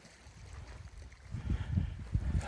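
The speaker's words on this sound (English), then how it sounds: "I love the sound of the water hitting the rocks" Lake water washing and splashing against shore rocks at Tibbetts Point Lighthouse, soft low sloshes that build into a few closer surges.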